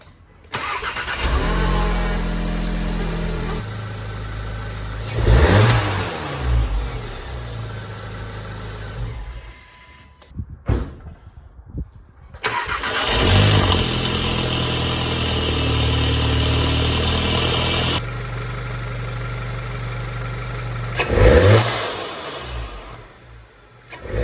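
An Audi A3 engine cranks and fires up close by, revving briefly before settling into a steady idle, with a short break and a second start-and-rev partway through; no talking.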